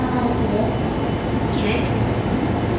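A JR Ueno-Tokyo Line train pulls in at a Tokyo Station platform: steady, loud rumbling rail and station noise with no distinct clatter, and station announcements can be heard over it.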